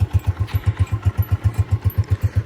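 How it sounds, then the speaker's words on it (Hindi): A Honda 125 motorcycle idles after being started, its single-cylinder engine thumping in a steady, even rhythm of about six beats per second, loud and close, with no talking. "बाइक स्टार्ट हो गई हमारी"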